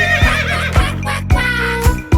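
A horse whinnies loudly and close, in a long wavering call, with a few sharp thuds punctuating it.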